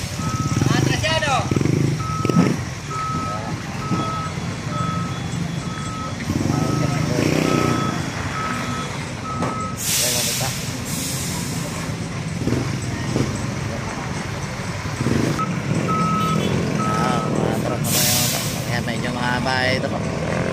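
A truck backs up on a busy road, its reversing alarm sounding a steady run of evenly spaced beeps that stops and later resumes, under loud traffic noise and people talking.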